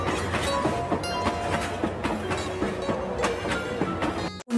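A cartoon sound effect of a train travelling through heavy rain and stormy wind: a steady, rhythmic clickety-clack of wheels over a constant rumble. It stays loud and close and cuts off sharply at the end.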